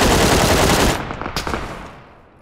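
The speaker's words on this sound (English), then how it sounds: "Who shot at me?" A loud, close burst of rapid machine-gun fire in PUBG lasting about a second, followed by a few trailing shots and a fading echo.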